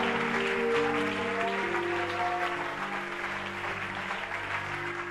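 A church congregation applauds and cheers in praise during a French-language worship service, a steady wash of clapping over sustained music or organ tones, filling the whole stretch without a break.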